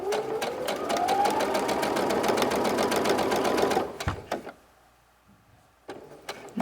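Stitching a tote bag, a sewing machine hums in a fast, steady rhythm for nearly four seconds, then stops, leaving a few clicks and fabric-handling knocks in near silence.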